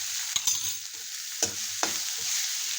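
Ivy gourd masala with coriander and salt sautés in a pan, a steady bright sizzle broken by a few sharp scraping stirs, close by and with no talking.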